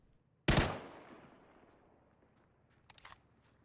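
A single sharp suppressed QBU rifle shot in a PUBG console match cracks loudly and decays into a long fading tail, followed by a quicker, fainter cluster of distant shots near the end.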